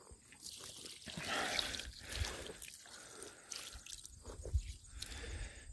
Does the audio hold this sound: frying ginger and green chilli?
no